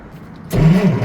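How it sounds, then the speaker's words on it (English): The engine of a 1953 Century Resorter boat turns over on a 6-volt system: after a brief near-quiet moment, a sudden loud cranking churn bursts in close by and continues to the end. "Turns over nice for 6 volts"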